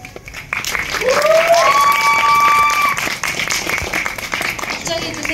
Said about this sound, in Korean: 영화 재밌게 보셨다면 그만큼 박수로 맞이해 주시면 감사드리겠습니다